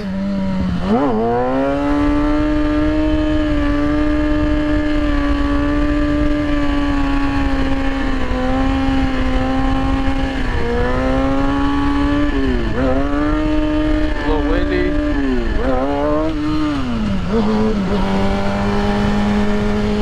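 A stunt motorcycle engine runs continuously while being ridden, holding a steady drone with repeated throttle blips and revs rising and falling, loud and close throughout with no talk.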